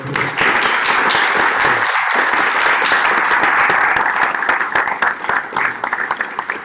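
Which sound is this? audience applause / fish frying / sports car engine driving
audience applause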